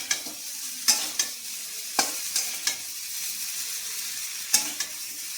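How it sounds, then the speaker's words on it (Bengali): Eggs fry in a pan with a steady hiss while a utensil scrapes and stirs, giving repeated sharp clicks and scrapes at irregular intervals, close and clear with no talking. "এদিকে আমার ডিম ভাজা হয়ে গেছে, এটাও মোটামুটি ভাজা হয়ে গেছে।"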